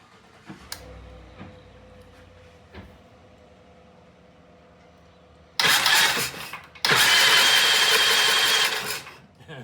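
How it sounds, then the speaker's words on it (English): A black Norton motorcycle engine is electrically started, quiet ticking first, then two loud bursts of cranking and turning over close by. "I'm going to press the magic button, spin the motor"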